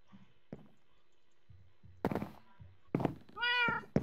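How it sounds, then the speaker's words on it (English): Cat meowing in the Minecraft video game, a couple of short meows followed by a longer rising meow at the end, with soft thumps and clicks between them, close and clear against quiet. "He's got a nice little cute cat."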